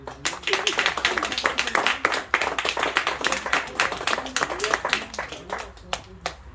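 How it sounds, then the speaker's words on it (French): Steady hand clapping from an audience at an archery society's king-shooting ceremony, dense and continuous for several seconds, with a voice speaking over it. "Je vous demande d'applaudir bien fort"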